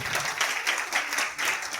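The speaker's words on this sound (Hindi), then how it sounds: "जबरदस्त तालियां अपने अपने लिए फिर से होनी चाहिए" Audience members at a company meeting applaud themselves, a dense, lively burst of many hands clapping at fairly close range, steady throughout with slight swells.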